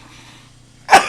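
A single sharp, loud sneeze bursts out close by near the end, after a quiet stretch of faint room noise.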